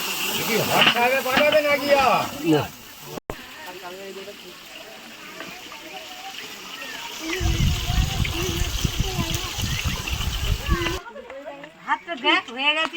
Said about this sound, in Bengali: মাছগুলো ভেজে নেওয়া হচ্ছে